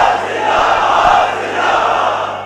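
Large crowd at a religious gathering chants slogans in unison, a loud, dense roar of many voices swelling and holding without a break.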